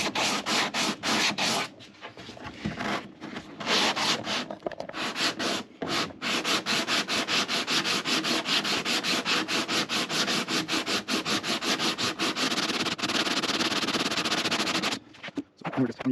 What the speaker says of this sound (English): now I'm using this very small, I think it's called a thumb sander or something, to just block this out